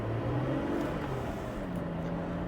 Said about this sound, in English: The exhaust, while it's in the car, obviously booming out backwards, isn't too bad.